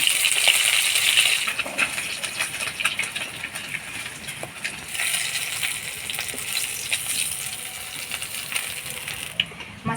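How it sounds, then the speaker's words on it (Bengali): Hilsa fish heads frying in hot oil in a pan, a dense crackling sizzle with scattered pops and spatters, loud at first and easing slightly while it continues. "মাছের মাথাগুলোও ভাজে নিব"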